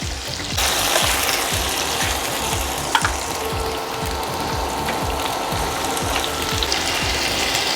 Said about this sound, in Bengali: আলু উচ্ছে ভাজার জন্য আমি কড়াইয়ে তেল দিয়ে দিয়েছি।